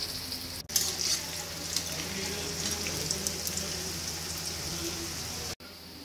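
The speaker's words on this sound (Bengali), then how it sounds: "সর্ষের তেলে বানালে ভালোই লাগবে খেতে, আই হোপ। অ্যান্ড চলো ভাজা স্টার্ট করি আমরা।" Dahi bada fry in mustard oil, giving a close, steady sizzle and bubbling that runs throughout, briefly cut by two short gaps, with no speech.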